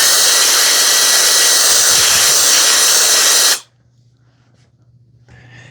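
A loud, steady blower roars up close while drying the mop parts of a Dreame Matrix10 robot vacuum, then cuts off abruptly, leaving faint background noise and a brief soft rustle.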